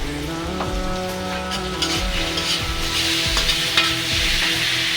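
Green chili, ginger and spices frying in a pan for a rita fish curry, a loud continuous crackling sizzle with repeated stirring scrapes, close and without speech.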